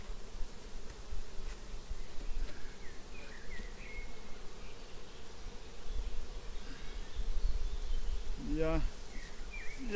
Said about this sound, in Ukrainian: Бджола, бачите, спокійно, не дивлячись на погоду